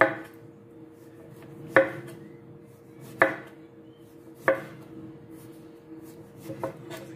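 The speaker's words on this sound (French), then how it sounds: "la betterave, on va la couper en quartier, des petits quartiers" A knife chops beetroot into small quarters on a board, four or five distinct, evenly spaced thuds over a quiet room hum, close and fairly crisp.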